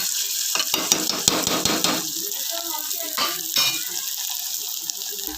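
Raw mango pieces with onion being stirred in a hot pan for a mango curry, a loud bright sizzle with dense scraping and tossing during the first two seconds, then a steadier frying hiss with occasional stirs.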